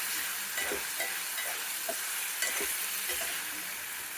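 Tomatoes frying in a pan for bitter gourd masala, a bright continuous sizzle with scraping stir strokes at an irregular pace, close and steady.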